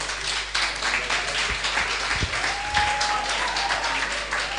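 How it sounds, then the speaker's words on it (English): Audience applause fills the room for Diola at a Nollywood event, a steady dense wash of clapping with a few cheers, loud and continuous throughout. "play a big round of applause for Diola"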